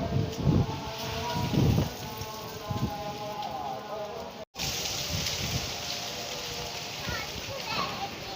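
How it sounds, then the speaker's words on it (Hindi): Rain drizzling down from a tree in a windy storm, a steady hiss of drops under children's voices playing and talking nearby, with louder gusts early on. "पेड़ की बूंदाबांदी हो रही है।"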